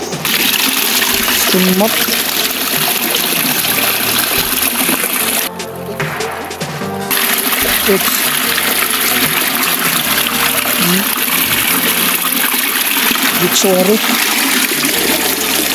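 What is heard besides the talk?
water flowing and falling into a hole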